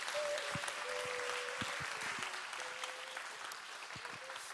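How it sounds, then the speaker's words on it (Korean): A church congregation at a youth prayer revival service claps steadily and warmly for the whole stretch to welcome a pastor to the stage, with a faint sustained tone underneath. "저희 목사님 등단하실 때 뜨거운 박수로 환영해 주시면 감사하겠습니다."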